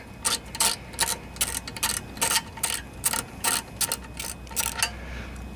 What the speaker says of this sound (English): I'm gonna need to get a socket. 5/16 socket.